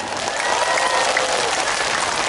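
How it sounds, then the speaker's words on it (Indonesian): A sermon audience at Jorong, South Kalimantan, breaks into loud, sustained applause, a thick unbroken clatter of many hands with no talking over it. "Mana tepuk tangannya?"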